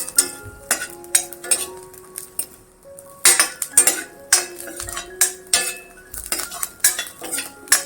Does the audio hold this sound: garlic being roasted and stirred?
yes